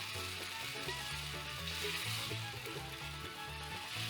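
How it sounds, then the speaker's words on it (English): Chopped tomatoes with basil sizzle steadily in a hot pan as a spatula breaks them up for a quick marinara, a continuous close hiss over a low humming tonal layer. "I'm just going to clunk that all in there. Kind of break it up with your spatula a little bit."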